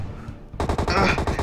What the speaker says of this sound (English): I'll provide cover fire, Mr.